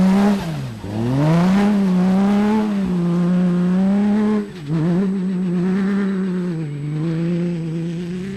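Cross-country championship race car in wet, slippery conditions, engine revving loud and close with rising and falling pitch through gear changes, one brief lift-off midway.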